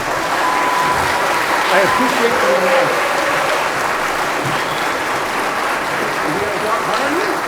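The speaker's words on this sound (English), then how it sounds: "Please join me in giving these candidates a round of applause" Audience applause for local election candidates at a city candidates forum, a steady crowd clapping throughout while someone speaks briefly over it.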